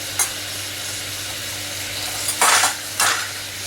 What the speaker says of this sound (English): So you can stir it sometimes.